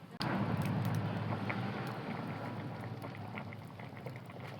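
A pot of curry with potato, eggplant, chili and salt boils steadily, a continuous close bubbling and simmering hiss with no one talking.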